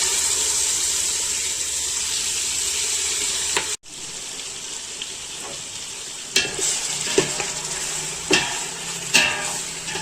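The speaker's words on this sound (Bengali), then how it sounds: "আমাদের ম্যারিনেট করা মাংসটা আমরা দিয়ে দিচ্ছি," Marinated chicken hits a hot pan for biryani with a steady sizzle, and scattered scraping stirs and clinks follow as it cooks close by, with no talk.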